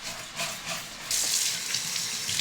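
Running tap water splashes over a cutting board in a sink, a steady rushing stream that gets louder and fuller about halfway through as the board moves under the flow, close and continuous with no talking.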